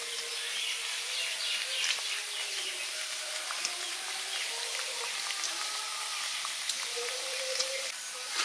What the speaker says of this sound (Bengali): সব পুরিগুলো ভাজা হয়ে গেছে